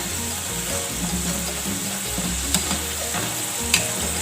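Homemade French fries deep frying in hot oil give a steady, loud, dense sizzle with bubbling texture throughout, broken by a couple of sharp clinks or pops near the end.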